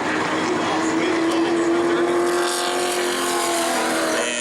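A super late model race car roars steadily around a short oval track during qualifying at New Smyrna, its engine note loud and continuous with a droning, slightly shifting pitch, under faint background noise.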